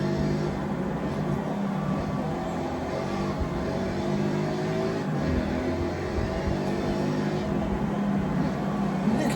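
Cars racing in Forza Horizon 6 on Xbox: a steady, dense roar of engines runs without a break from start to finish, with slight swells as the cars rev, at a moderate level.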